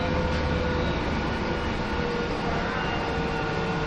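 A metro-like commuter train on the C1 line near Jerez runs with a loud, steady rumble and broadband roar throughout, heard from inside or close by with no talking.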